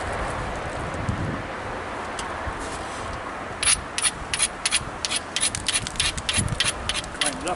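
A flint preform's edge is ground in a knapping session: a steady rough rubbing hiss at first, then a run of sharp, rapid scraping strokes close by.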